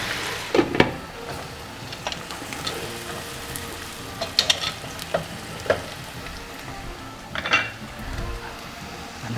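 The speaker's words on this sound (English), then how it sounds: "The water is boiling." Cabbage steams and sizzles in a pot on the stove, a steady bubbling hiss broken by several clinks and scrapes of a utensil against cookware, close by and without talk.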